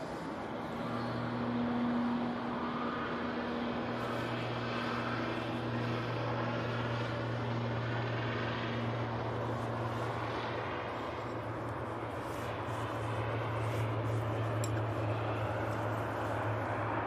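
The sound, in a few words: Etihad Boeing 777-300ER taxiing at Manchester Airport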